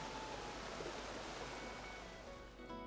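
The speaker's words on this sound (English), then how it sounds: "You'll hear the beck down on your left as it passes over some waterfalls." A beck in a Lake District valley tumbles over waterfalls, a steady, broadband rushing of water with no talk, fading slightly toward the end.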